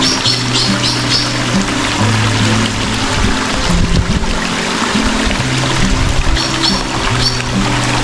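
Water rushes loud and steady at a waterfall in Sinharaja Forest Reserve, a continuous broadband roar with a voice faintly underneath.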